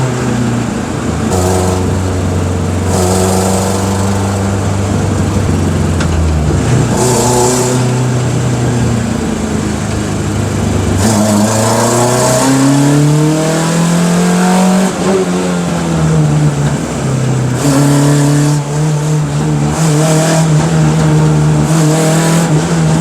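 A Renault R5 Le Mans edition rally car with four carburettors revs hard and loud, its engine note climbing and falling through the gears while the exhaust pops and bangs, with no voices.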